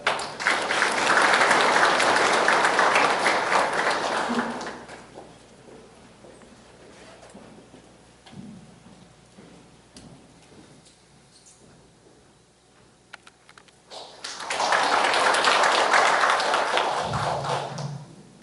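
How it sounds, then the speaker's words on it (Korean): Audience applause fills a seminar hall at Gumi City Hall during a 2018 regional economic development event, with loud sustained clapping at the start, a quieter stretch of room noise, then a second strong burst of clapping near the end. "박수 부탁드립니다."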